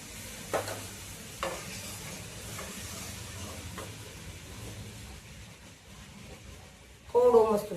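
Khandvi lasagna is roasted and stirred in a pan: a soft continuous sizzle with occasional scraping knocks of the spoon, and a short louder crackle near the end. A voice talks in the background.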